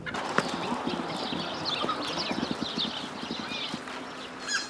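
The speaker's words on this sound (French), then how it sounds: "Regardez par exemple ce petit poulain." Miniature foal and other animals on a farm, with soft hoof clip-clops and shuffling near the ground under a bed of farmyard chatter and faint bird calls, steady and moderate, no speech.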